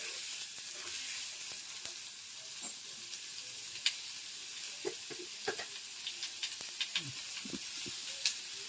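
Salted egg scramble with onion sizzles steadily in a pan while a utensil stirs and scrapes it in scattered taps, close and moderately quiet, with no talking.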